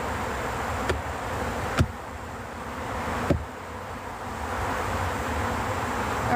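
Honeybees buzz around an open beehive during autumn hive work in New York, a steady near hum with wind rumble and a few faint knocks from handled frames.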